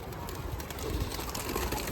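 A stray Mardin pigeon of the kula colour, coo-like low murmuring blended into steady outdoor background noise, faint and brief.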